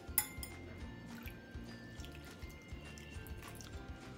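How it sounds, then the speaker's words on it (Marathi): Water trickles and drips steadily into a bowl of semolina batter, with soft wet sloshing and a faint clink near the start; no voices. "आणि आता आपण यामध्ये पाणी घालूयात"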